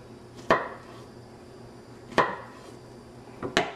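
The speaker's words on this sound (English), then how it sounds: "so I chop it down the middle, half half inch cuts, three over there, three over here" A knife chops through a plantain on a cutting board in three sharp, separate knocks spaced over a few seconds, close up in a quiet kitchen.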